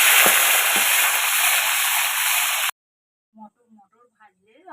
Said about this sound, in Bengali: মটরটা দিয়ে দেবো, মটরটা ভেজে নেব।